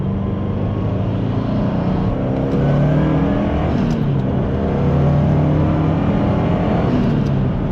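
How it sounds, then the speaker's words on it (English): A 2004 Subaru WRX STI with stock exhaust accelerating, a fairly mild exhaust note, revs climbing through a couple of gear changes, loud and close. "I'm gonna give you guys a pull without the modified exhaust."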